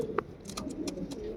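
A white pigeon in a cage gives a short, soft, low coo early on, followed by faint rustling and small clicks close by.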